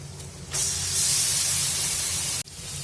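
Chicken pieces tipped into hot oil with fried onion and a bay leaf, bursting into a loud, steady hiss that swells after half a second and holds for nearly two seconds before cutting off abruptly.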